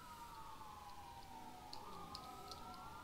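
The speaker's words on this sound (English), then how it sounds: "Let's get the sirens off, shall we?" A police car siren wails in an LSPD pursuit in a video game, a faint, wavering tone sweeping up and down at a distance, with a few short chirps partway through.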